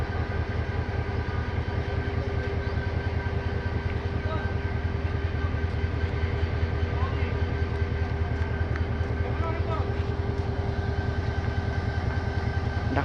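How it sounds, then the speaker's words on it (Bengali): Intercity 703 Mohanagar Godhuli, running from Chittagong toward Dhaka, enters Gunabati railway station with a steady rumbling engine drone and a continuous low clatter, loud and sustained throughout. "চট্টগ্রাম থেকে ছেড়ে আসা ঢাকা অভিমুখী আন্তনগর 703 মহানগর গুদলি গুণবতী রেল স্টেশন প্রবেশ করতেছে"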